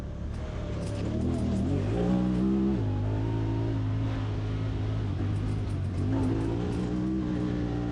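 Honda Talon 1000X-4 side-by-side engine droning loud and continuous as the rear end slides out in a rear-wheel-drive drift, revs wavering and climbing through the slide.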